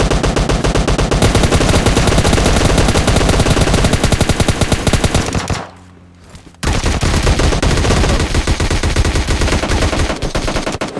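Rapid automatic gunfire in PUBG Mobile Lite, a loud, dense stream of shots that cuts out briefly midway and then resumes just as intensely, with no talking.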